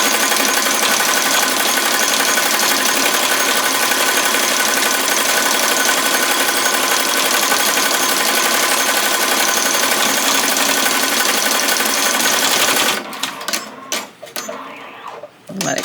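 An embroidery machine stitches a frog plushie dog toy in the hoop with a steady, loud mechanical whir and rapid needle chatter, which breaks into irregular clunks near the end.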